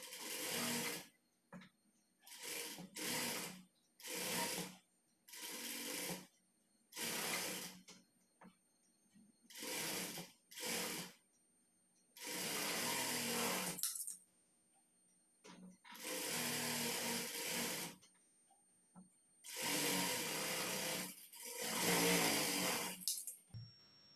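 A sewing machine stitches a blouse sleeve in short, separate runs of whirring, each lasting a second or two, with quiet pauses between them, close and clear.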